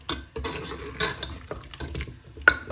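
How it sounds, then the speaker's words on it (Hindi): Meat and potatoes stir-fried with garam masala and cumin for degi aloo gosht, metal spoon scraping and clanking against the pot in irregular bursts, close and fairly loud, with a sharper clink near the end. "अब हम इसको अच्छी तरह से भून लेंगे"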